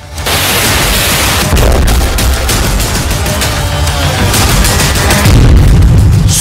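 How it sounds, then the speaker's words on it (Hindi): A guided bomb explosion in Kharkiv during the Russia-Ukraine war: a loud, sharp blast followed by rumbling, crackling debris noise, harsh and close, with rough bursts continuing for several seconds. "सामने ही धमाका, धुआं ही धुआं।"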